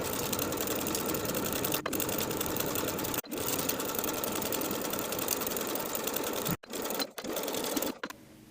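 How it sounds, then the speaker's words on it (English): A sewing machine runs a long, continuous seam, stitching the facing of high-waisted A-line shorts. The close, even whir is broken by a few brief stops. "Sew the facing in place with a 5/8 inch seam allowance all the way around."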